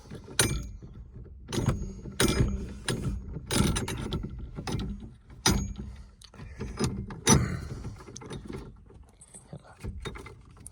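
A steering wheel puller being threaded onto the steering column of a 1979 GM Cutlass, making close metallic clinks, rattles and ratcheting scrapes in irregular bursts throughout.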